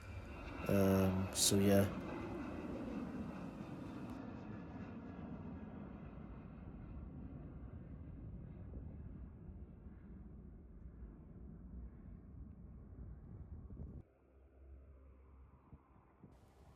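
An airliner rolls and climbs away from runway 12 at Prestwick Airport as a steady, distant broad roar that slowly fades and then drops off sharply, with a short spoken remark near the start.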